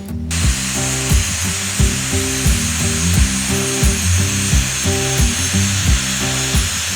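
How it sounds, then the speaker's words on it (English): A grinder shaves metal off an antweight combat robot blade to balance it, a loud close mechanical drone pulsing in a regular rhythm of repeated bursts throughout. "so I'll grind a little bit off this edge"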